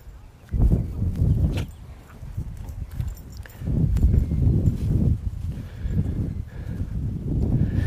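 A horse cantering in a riding-lesson flatwork session gives rhythmic, fairly close hoofbeats in repeated bursts, low and thudding, with a trainer's voice talking over parts of it.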